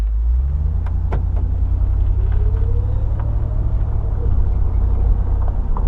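A 2007 Mercury Grand Marquis, a big heavy Panther-platform American sedan, pulls away from a stop: a steady low engine rumble fills the cabin at close range as the car sets off, with a gentle rising tone as it gathers speed.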